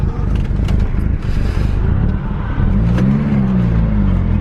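A worn Mk4 Volkswagen GTI on lowering springs drives along, with a steady low engine drone and road rumble, a slight rise in revs partway through, and faint rattles inside the cabin.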